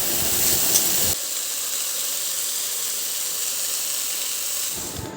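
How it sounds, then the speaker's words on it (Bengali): Potatoes sizzle and hiss in a hot pan, louder at first, then settling into a steady, even frying hiss. "আমি এদিকে আলু ভাজা বসিয়ে দিয়েছি"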